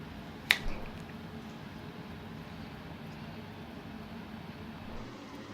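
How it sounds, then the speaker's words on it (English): A single crisp finger snap, close and fairly soft, followed by a faint low hum in an otherwise quiet room. "I will now snap my fingers in 3"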